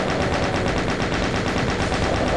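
Rapid automatic gunfire from a video game shooter rattles on in a steady, evenly spaced stream, loud and continuous from start to finish.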